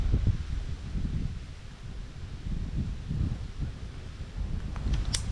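Wind blows steadily across a fishing canal, a low broadband rumble buffeting the microphone with gusty swells and no voices.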